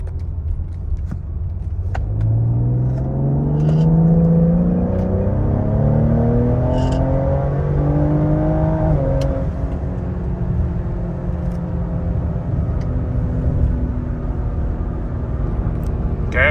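A car engine lugs in second gear, its low droning note climbing slowly and steadily as revs build from near idle, loud and close inside the cabin, with no speech over it.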